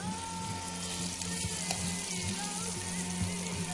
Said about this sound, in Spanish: seguimos con el solomillo, que lo vamos a dorar un poquito en esta sartén